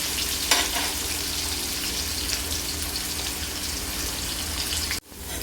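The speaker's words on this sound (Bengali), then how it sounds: "আলুগুলো দিয়ে মোটামুটি আমি চার থেকে পাঁচ মিনিট ভেজে নেব" Cut potatoes fry in oil in a pan for a rui fish curry, giving a steady, close, loud sizzle throughout that breaks off abruptly near the end.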